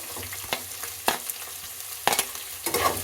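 Cauliflower, carrot and beans fry in a pan for vegetable pulao, a soft background sizzle broken by several sharp spatula scrapes and stirring knocks at irregular intervals.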